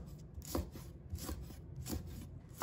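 Knife chopping red peppers into rings on a board, a few sparse, soft cuts spaced about half a second apart, quiet and close with no voices.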